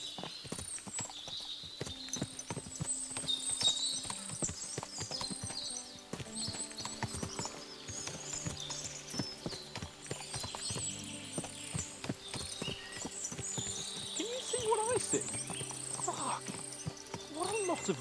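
In the video game Kingdom Come: Deliverance II, several horses clip-clop at a walk, hooves beating an uneven rhythm, with occasional whinnies, and someone talking over the hoofbeats.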